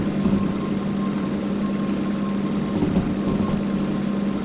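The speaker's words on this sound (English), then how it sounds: "This engine is actually impressive." Steady, droning hum of a DM3 diesel locomotive engine in Derail Valley working hard in low gear up a hill, a loud continuous mid-pitched rumble with a faint knocking texture and no voices.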